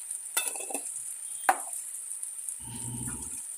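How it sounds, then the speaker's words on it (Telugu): A spoon stirs chili powder into ginger garlic paste frying in oil, with a few sharp metallic clinks against the pan and a soft scraping stir near the end over a faint sizzle. "అందులోకి ఒకటిన్నర టేబుల్ స్పూన్ కారం వేసుకొని బాగా కలుపుకోవాలి"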